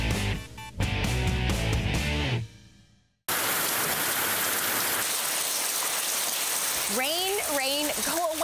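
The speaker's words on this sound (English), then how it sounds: "Rain, go away." Steady rain pours down in a broad, constant hiss after a burst of music cuts out, continuing loud and unbroken to the end, with a few high whistling tones rising over it late on.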